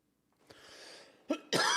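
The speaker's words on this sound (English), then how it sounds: "I don't know why I started coughing here." Two short, close coughs, the second harsher and longer, after a stretch of quiet room noise. No talking.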